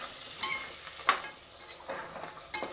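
Mutton leg bones (goat trotters) fry in hot oil, a steady sizzle punctuated by several sharp scraping stir strokes and clatters against the pan.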